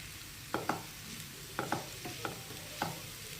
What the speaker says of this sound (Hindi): चलिए पूरों को मिक्स करते हैं।